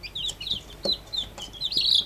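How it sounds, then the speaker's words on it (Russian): Newly hatched chicks peep in a box, with rapid high chirps and little scuffling bursts from their scurrying close by, no talking. "Пока все цыплятки здоровы с виду, бегают что-то, шебуршатся."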